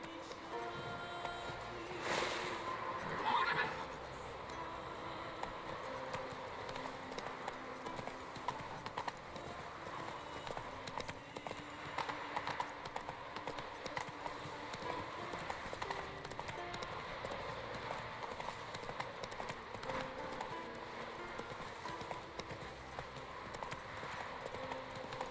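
Horse hooves clip-clop steadily at a gallop through a game world in The Witcher 3, with a brief whinny near the start, continuing over ambient game music and effects for the whole stretch.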